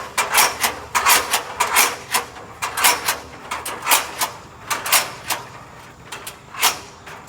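A single firefighter raises a ground ladder during training, a quick series of sharp clattering, sliding metallic clacks in an uneven rhythm, close and fairly loud.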